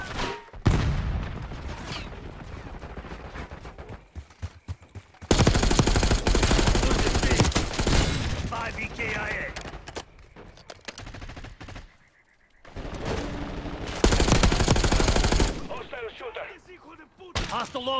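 Call of Duty Black Ops 6 gunfire comes in loud, long automatic bursts broken by quieter stretches, with other shots and brief voices mixed in.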